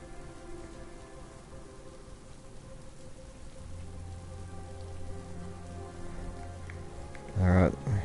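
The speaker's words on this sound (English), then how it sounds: "Well, raining right now." Steady rain falls on a farm after a long hot, dry spell, a soft continuous patter at low level with a low hum underneath and a short louder knock near the end.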